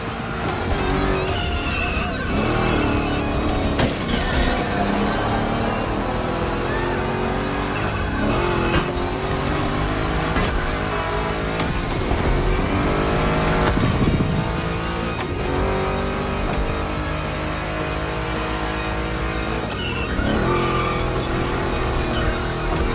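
A modified classic Chevrolet 3100 pickup lapping a race track, with a loud, continuous engine roar, repeated rising and falling revs through gear changes, and tire squeal, close and unbroken for the whole stretch.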